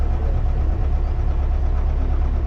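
A ZIL truck engine runs while reversing, a loud, close, steady low rumble with a slightly knocking, uneven throb.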